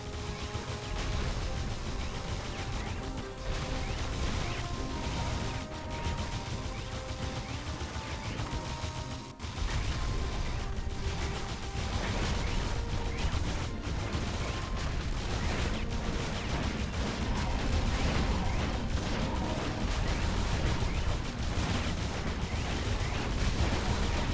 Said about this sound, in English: the cannon turrets can pick off that last rhino